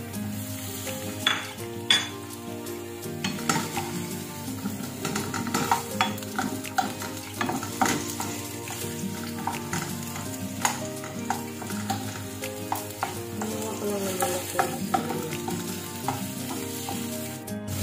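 Onions frying in a pan for a beef and broccoli stir fry, a continuous sizzle under frequent sharp clinks and scrapes of a utensil against the pan.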